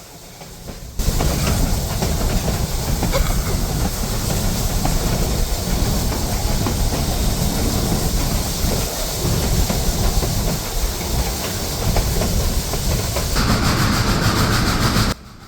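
Cumbres & Toltec steam locomotive train running, heard from the platform of the first car behind the engine: a loud, steady roar of wheels and track with hissing steam throughout, no voices.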